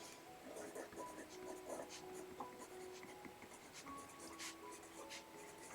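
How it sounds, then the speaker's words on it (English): A pen does hand lettering of a quote in a dotted bullet journal: soft, close scratching strokes come in short, irregular bursts, quiet and alone. "The first quote, I'll write it down up here"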